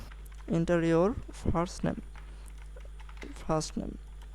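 Quiet clicks of typing on a computer keyboard, entering a text field placeholder in HTML, sit faintly under a man's steady spoken explanation.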